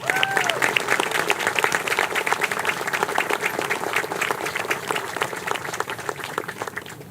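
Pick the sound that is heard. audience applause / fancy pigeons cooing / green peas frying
audience applause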